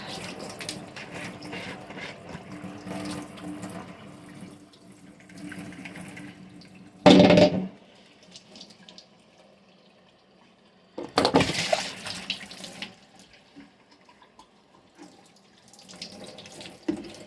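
Hot water runs steadily from a tap into a reusable bottle, a continuous hiss and splash with two louder, fuller gushes partway through and no talking.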